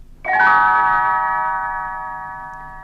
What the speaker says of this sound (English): Tinker Bell rings her little bells, like this